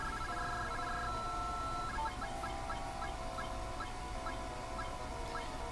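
A retro Shining Force game effect plays as a character turns into a chicken: a quiet run of repeated electronic clucking blips over a faint, steady background.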